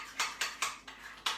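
A spoon vigorously stirring strawberry jam in a bowl, making six quick, quiet scraping strokes in an even rhythm.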